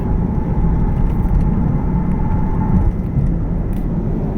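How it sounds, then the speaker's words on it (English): A 2002 Ford Mustang engine with a rattle runs at a steady, loud, low rumble, heard close and alone without any voices. "2002 Ford Mustang, rattling noise during accelerating on gear."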